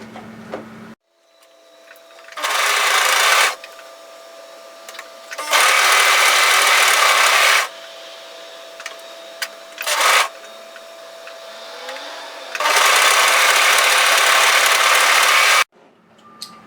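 A serger overlocker running four threads sews the shoulder seams of a sweatshirt at a 6mm width, with its blade trimming frayed raw edges. It comes in four loud, steady bursts of machine whirring, separated by quiet pauses.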